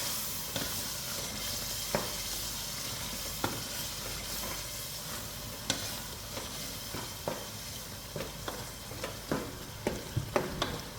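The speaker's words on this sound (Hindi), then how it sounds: "अब दोस्तों हरी मिर्च ऐड करेंगे चॉप किया हुआ। अच्छी तरीके से मिक्स करेंगे।" Chopped green chillies sizzle steadily in oil in a cooking pot while a spoon stirs them, with irregular scraping knocks against the metal; close, fairly quiet, no talking.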